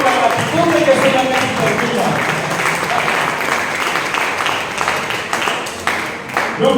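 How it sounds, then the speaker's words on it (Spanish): Church congregation applauding together, a sustained wash of clapping from a full room that holds steady for several seconds with slight swells and fades. "Le dan un aplauso a Jesús por gratitud."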